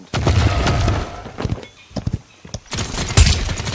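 Heavy gunfire from a big gun in the Paladins video game, several loud booming bursts with short gaps between them.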